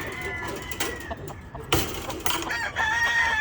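A young rooster (stag) crowing at close range, a strained, rising crow over clucking and farmyard murmur, with people talking nearby.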